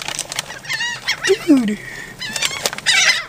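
Seagulls being fed cheese balls flap their wings and give sharp nearby calls, with a person speaking briefly in between.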